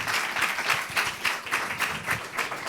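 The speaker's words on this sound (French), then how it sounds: "Déjà, on applaudit Hugo Botman" An audience applauds Hugo Botman at a public talk on the mysteries of the brain and mind: a short, lively burst of many hands clapping in quick uneven pulses, close and fairly loud, with no speech over it.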